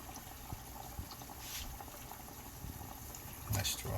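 Italian turdilli Christmas doughnuts frying in hot oil, a faint steady bubbling sizzle with a few louder splashes as dough drops in, quiet and close.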